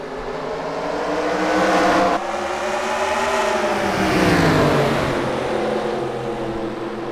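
Race cars launch into a heat, engines roaring and rising in pitch as they accelerate, a loud shift break midway, then a swelling wave of passing engine noise.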